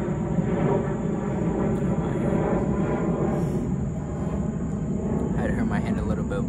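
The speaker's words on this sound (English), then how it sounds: "For that plane to pass" An airplane passing overhead, a steady broad roar of engine noise that holds throughout without fading, with a faint high whine above it.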